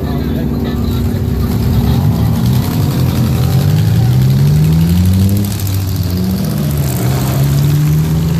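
A Chevrolet Camaro roars through a burnout at a car event, its loud engine rising and falling in pitch as it revs hard, heard close with shouting in the crowd.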